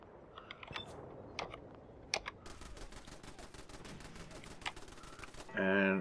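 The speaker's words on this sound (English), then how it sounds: "I think the machine guns have gotten it" Rapid, fairly faint rattling bursts of machine gun fire in the Fallout 4 wasteland, irregular clicks growing into a steady stream before a brief louder electronic tone at the end.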